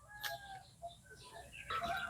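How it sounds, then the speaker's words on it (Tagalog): A red chicken clucking nearby on a rural farm, a few short clucks and calls scattered over quiet background noise. "Yung manok na pula."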